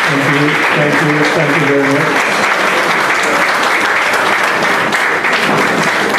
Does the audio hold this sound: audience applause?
yes